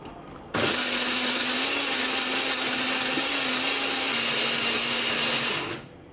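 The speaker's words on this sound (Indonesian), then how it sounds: "Kita akan haluskan menggunakan blender, beri sedikit air atau minyak goreng ya." A kitchen blender grinds shallots, garlic, candlenut, turmeric and ginger with a little water or oil, starting abruptly and holding a loud, steady motor whine for about five seconds before winding down.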